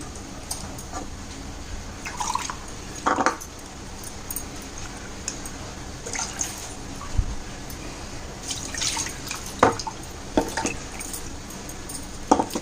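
Ground spice paste poured into tamarind water for rasam: wet drips and splashes of thick liquid falling into water, with intermittent squishy plops and light clinks against a vessel.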